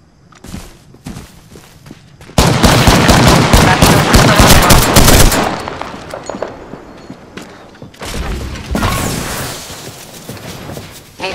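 Automatic weapon fire in the shooter game Apex Legends, long loud rattling bursts broken by pauses, with footsteps and lighter in-game sounds between the volleys and no speech.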